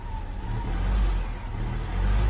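A Jeep's engine revs steadily as it climbs out of a ditch, a loud, sustained low rumble that swells toward the end with a final push of power.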